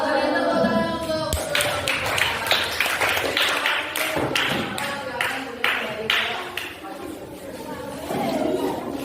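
Children in a classroom break into clapping applause, a dense run of overlapping claps that keeps going throughout, with voices chattering underneath.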